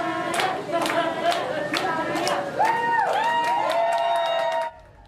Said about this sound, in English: All that clapping and cheering is for 10-year-old Maya Zamora